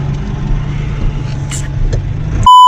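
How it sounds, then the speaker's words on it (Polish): A car drives past on a rural road during field work near Kielce, its engine rumble swelling steadily and staying close, then ending abruptly with a sharp tone. "Jest auto tu jedzie."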